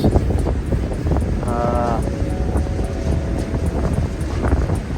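Strong wind buffets the microphone at a sailboat's mooring, a steady loud roar throughout, with a faint tonal hum in the background.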